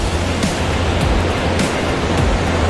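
Putudi Waterfall near Phulbani, water pouring into a river, a steady broadband roar filling the whole clip with no talk.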